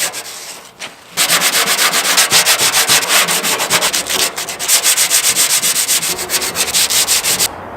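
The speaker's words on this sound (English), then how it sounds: "So I'm going to sand through some of the primer, and for right now that's okay." A 240Z gas tank is hand-sanded through its primer in rapid, rhythmic back-and-forth scratching strokes, loud and close, with one brief pause early on and no talking.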